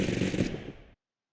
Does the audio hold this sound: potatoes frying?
no